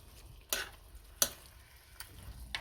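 A spoon stirs pork menudo with tomato sauce, soy sauce and oyster sauce in a pan, giving a few sharp scraping strokes over a soft, continuous sizzle, close and fairly quiet.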